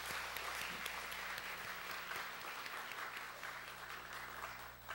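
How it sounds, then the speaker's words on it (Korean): A church congregation applauds during a service to welcome a newly registered member: steady, continuous clapping at moderate volume from a room full of people, with no talking over it. "환영의 박수 하겠습니다."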